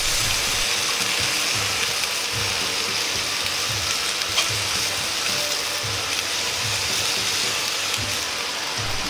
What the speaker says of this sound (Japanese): 裏返してから鮭を端に寄せて空いたスペースに野菜を入れて焼いていきます